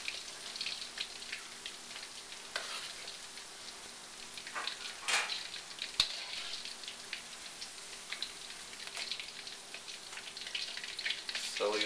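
Chicken pieces deep frying in hot oil, a steady fine crackle and patter of bubbling with scattered louder pops, moderately close and continuous throughout without talk.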